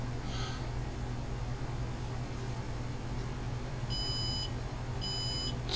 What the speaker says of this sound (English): All we have left to work out is this buzzer.